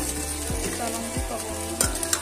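Chilies fry in a pot for goat trotter soup while a ladle stirs them in regular, heavy scraping strokes, each one a low thump over a continuous close sizzle.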